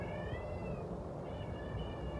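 A cat meows repeatedly in a drawn-out, wavering voice over a steady low background rumble, the calls running almost continuously for a couple of seconds with a short break in the middle.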